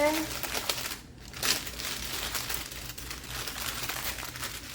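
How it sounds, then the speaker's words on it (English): Parchment paper crinkles and crumples as a bacon strip is rolled up in it in a kitchen, the rustling close and steady, with a brief crisp tear-like burst partway through. "And then I am just going to roll it up in some parchment paper."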